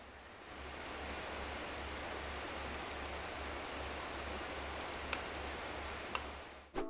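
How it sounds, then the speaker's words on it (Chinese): An Illegear Selenite X gaming laptop with a Ryzen 5900HX, its cooling fans running hard in boost mode, produces a constant broad airy whoosh, with a few faint ticks near the end before it cuts off. "这边我也录制了默认加速模式以及 Fan Boost 模式的噪音体验给各位参考。"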